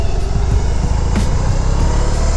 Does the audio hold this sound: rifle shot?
no